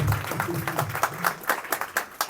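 An audience at a large family gathering claps to encourage the children, a brisk round of applause with sharp, distinct claps that starts under a brief voice and rises as it continues.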